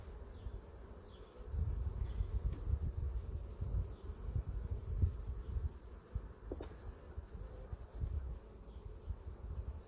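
Soft, steady buzzing of honeybees around frames being pulled from a hive during a first honey harvest, a low drone with faint rustling and handling noises close by.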